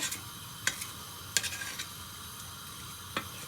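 Onions cooking over medium heat as a spoon stirs them in a pan: a faint steady sizzle broken by three or four sharp clinks and scrapes, quiet and close, with nobody speaking.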